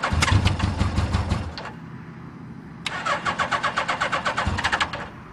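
A Suzuki GS 850G street motorcycle is cold-started, with two separate bursts of rapid, rhythmic starter cranking and sputtering engine turns close by and a short lull between them.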